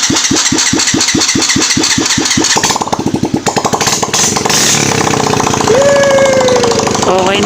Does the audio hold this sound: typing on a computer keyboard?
no